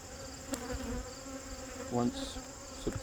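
Honeybees hum around a hive being readied for winter, a steady buzz with a few individual bees zipping close past, fairly quiet and with no talking.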